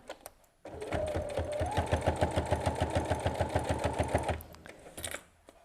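A sewing machine runs steadily while stitching a fabric table runner, a fast even needle clatter lasting several seconds after a soft start, then stopping with a couple of faint clicks.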